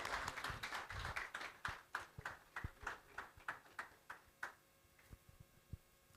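An audience at a seminar claps as a speaker walks up to the stage. The claps are faint and fairly distant, falling in an even, almost rhythmic beat before they thin out and stop.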